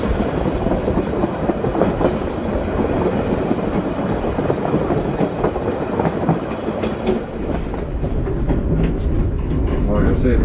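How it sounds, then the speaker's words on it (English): The Savannahlander train coasts on rails through a platform, with a loud, close, steady clickety-clack and rumble of wheels running continuously throughout. "We'll just coast through the platform here nice and steady"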